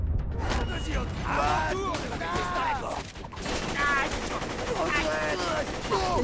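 Dense video-game gunfire in Borderlands 2, steady rattling bursts and booms filling the scene, with voices talking over the shooting throughout.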